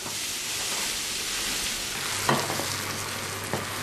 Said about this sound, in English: He flips the potato pieces every few minutes as they cook over low heat.